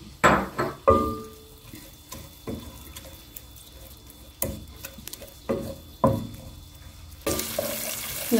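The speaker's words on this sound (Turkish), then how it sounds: "Böyle salçalarımızı kavuracağız." Tomato paste cooks in oil in a pot for a Turkish analı kızlı soup. A spoon scrapes and clinks in sparse, separate strikes, then a loud, steady hissing sizzle takes over near the end.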